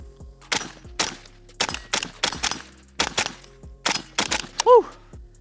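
A Pioneer Arms AK 556 Sporter rifle fires about ten sharp, loud, separate shots at an irregular pace, each a crisp crack with a brief ringing tail, followed at the end by a short whooping cry.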